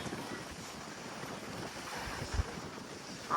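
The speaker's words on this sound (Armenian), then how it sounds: "Ալիքները եկան։" Sea waves washing onto a Greek shore, a continuous rushing surf roar mixed with wind buffeting the microphone, with a brief louder gust near the end.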